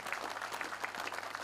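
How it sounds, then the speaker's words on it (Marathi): A crowd applauds at a Shivpunyatithi Deepvandana commemoration, a brief, fairly faint burst of steady massed clapping with no clear voices on top. "एकदा जोरदार टाळ्या आपण वाजवूया."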